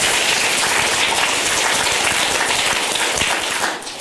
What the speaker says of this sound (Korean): 박수도 한번 합시다.